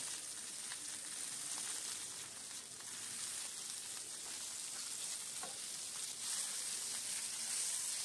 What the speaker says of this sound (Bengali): নুন আর হলুদ দিয়ে বেগুনটা ভেজে নেব